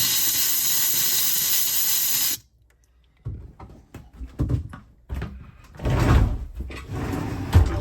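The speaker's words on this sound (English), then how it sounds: "we're pushing air completely through the hot water lines and we're blowing it out" Compressed air blasting through the hot water lines of a travel trailer during winterizing, a loud steady hiss for about two seconds, then a pause followed by irregular sputtering bursts and spitting as air and leftover water push out of the plumbing.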